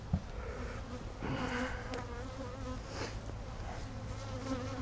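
Honey bees buzz around a row of hives in Florida, a dense, steady drone of many wings close by with individual bees whining past now and then.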